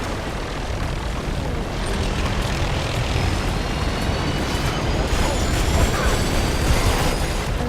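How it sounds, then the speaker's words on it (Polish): A helicopter approaches in the video game Turok, a broad, steady engine and rotor roar that grows slightly louder toward the end, a background whine threading through. "Zbliża się śmigłowiec!"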